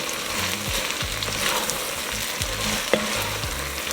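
Garlic and a little sugar sizzle in a soup pot, a loud close frying hiss broken by repeated spoon scrapes and stirring knocks in an even rhythm, no voices.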